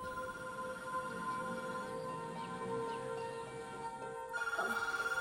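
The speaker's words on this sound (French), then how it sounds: "il devait être 7 heures quand le téléphone a sonné." A telephone rings with a steady electronic trill under low background noise, moderately near, with a sharper ringing pulse toward the end.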